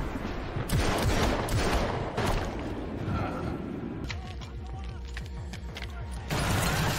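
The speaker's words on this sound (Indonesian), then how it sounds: "Vincent melihat kesempatan, ia mengangkat pisau dan menembak Charlie" Sustained gunfire from a thriller film action scene, loud bursts of rapid automatic shots and fusillades filling the whole stretch with brief mechanical clatter between volleys.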